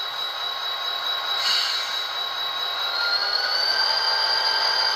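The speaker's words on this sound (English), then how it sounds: "Moving the locomotive right away, you get an increase in RPMs" An Athearn SDP45 model locomotive in Conrail paint, fitted with a Tsunami 2 sound decoder, runs with a steady diesel drone and a high whine that rises slightly as it moves, continuous and fairly close with no talking.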